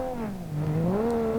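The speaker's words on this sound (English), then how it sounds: "The sound of this car shifting is one of the best noises ever." Car engine in the BeamNG drive driving game, revving with a pitch that dips and climbs again as it shifts gears, a close, steady tonal drone throughout.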